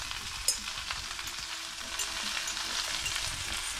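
Onions, thyme and garlic cook in a pot with a steady, soft sizzle and crackle, a few faint clinks and stirring scrapes over the continuous frying hiss.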